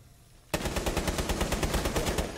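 Rapid automatic gunfire from a video game shooter bursts in suddenly after a brief quiet moment, then rattles on as a loud, evenly spaced stream of shots.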